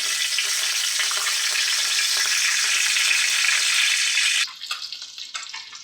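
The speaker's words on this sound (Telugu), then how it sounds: "చూడండి చేపలు ఫ్రై చేస్తున్నాం." Fish frying in oil in a pan, seasoned with salt, chili powder and turmeric, gives a loud, steady, hissing sizzle close up that suddenly drops to quieter crackles near the end.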